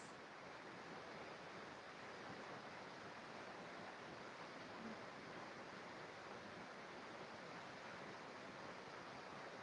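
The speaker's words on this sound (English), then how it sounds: "as you listen to the river" A river flowing, heard as a steady, dense wash of rushing water that stays even and continuous throughout, with no talking.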